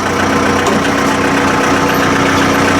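A loud engine runs close by while a heavy mill head is being lifted, a dense steady roar with a slight knocking pulse and no obvious rise in revs, no talk over it.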